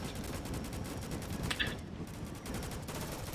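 Rapid gunfire in the video game Rolling Thunder, a dense steady stream of repeated shots running throughout, even in loudness with no pauses.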